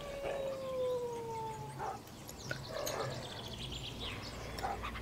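Several dogs howl in a survival video game, with long wavering cries rising and falling at middle distance over a low ambient background, overlapping one another.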